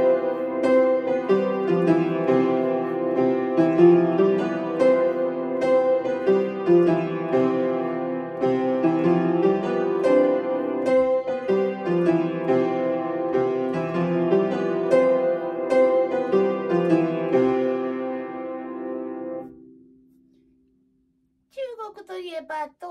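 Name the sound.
melody in the Okinawan Ryukyu musical scale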